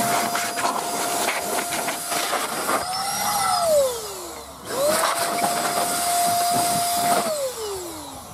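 A strong electric blower whirs with a steady high tone, winding down once, then spinning back up and dropping away again, loud and close with airy hiss.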